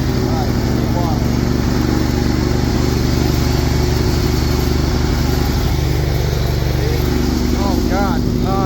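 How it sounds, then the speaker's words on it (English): A forklift converted into a lawn mower runs with a steady, loud engine drone while cutting grass, with brief squeaky mechanical chirps over the constant rumble. "Yeah, it still mows."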